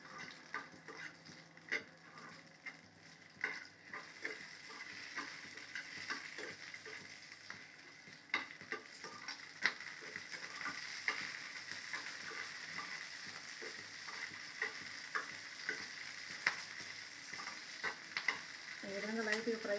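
Green chillies, torn by hand, fry in hot oil for a Telugu brinjal-tomato chutney, giving a steady soft sizzle with scattered small pops and crackles throughout, fairly quiet and with no talking.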